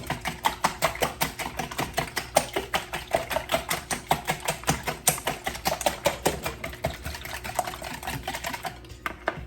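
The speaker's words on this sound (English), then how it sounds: "Okay, 6 eggs. I'm going to just give these a quick mix." Six farm eggs are whisked in a bowl: rapid, even clicking of a utensil against the bowl in a steady fast rhythm, close and clear, stopping just before the end.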